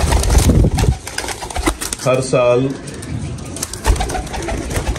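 Pigeons coo close by in rolling, throaty calls, loudest in the middle, while someone talks over them.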